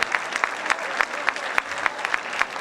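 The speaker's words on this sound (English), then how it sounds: "Give them a nice Oxnard round of applause." Audience applause at the close of a lecture, a steady wash of clapping from a room of people, lively and sustained for a few seconds.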